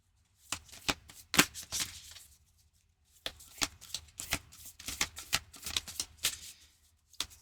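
Tarot cards are shuffled by hand in repeated crisp riffling bursts, close and fairly quiet, with a short pause partway through and no talking.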